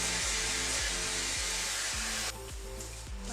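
An aerosol can of Colorista temporary grey hair colour hisses in a steady, close, loud spray onto afro-textured hair, cutting off after about two seconds, with background music underneath.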